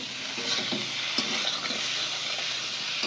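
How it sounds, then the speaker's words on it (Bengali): Sliced eggplant stirred into fried spices in a pan for a Bengali-style fish and potato curry: continuous close sizzling with repeated scraping strokes of a spatula, steady throughout and free of talk. "কোচানো বেগুনটা দিয়ে আবারও একটু নাড়াচাড়া করে দেবো"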